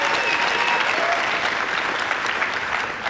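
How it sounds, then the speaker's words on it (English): Dense, steady applause from an audience at a startup showcase and accelerator grand finale, a continuous wash of many hands clapping at even loudness throughout, with no voices standing out. "Can we give her a round of applause?"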